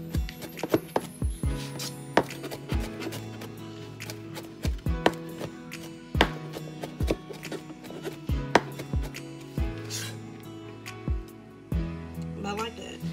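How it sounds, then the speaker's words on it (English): Knife chopping cilantro on a cutting board, sharp irregular taps in quick bursts, close and clear, with a voice talking over them. "Take your knife back and forth over the cilantro."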